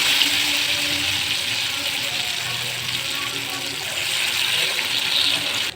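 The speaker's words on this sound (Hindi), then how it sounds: "अब एक में हम डाल दे हम बेसन में लपेट के डाल देने के बाद अच्छा से ये फ्राई हो जाए।" Taro leaves wrapped in gram flour batter frying in hot oil, a steady broadband sizzle and hiss that holds level throughout, close and fairly loud.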